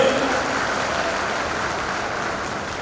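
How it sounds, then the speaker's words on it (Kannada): An audience at a public event in Bidar claps for a few seconds, a steady wash of applause that slowly fades toward the end. "ಸ್ವಲ್ಪ ಎಲ್ಲರೂ ಜೋರಾಗಿ ಚಪ್ಪಾಳೆ ತಟ್ಟಿ"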